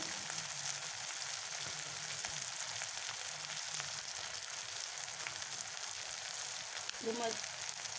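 Cumin seeds crackling in hot oil for a Bengali fish-head dal, as a continuous even hiss and sizzle with a brief voice near the end.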